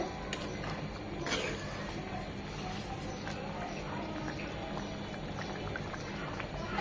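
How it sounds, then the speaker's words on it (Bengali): Moong dal curry simmering in a pot, a soft continuous bubbling and burbling close by with occasional small pops, steady throughout, with faint voice in the background. "মুগ ডালগুলো সেদ্ধ হবে, ঝোলটাও কমে আসবে, একদম আর কি মাখো মাখো হবে।"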